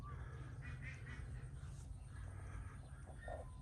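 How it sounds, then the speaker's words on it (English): Birds call from a garden tree in Vietnam, scattered chirps and a few harsher squawks at moderate distance over a steady outdoor hum, with no one speaking. "The birds love hanging around this area."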